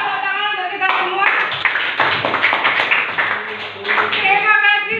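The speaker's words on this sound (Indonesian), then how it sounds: "Tepuk tangan untuk kita semua." A classroom of middle school pupils claps together during a science lesson, dense loud clapping under a teacher's voice, with brief speech before and after the burst.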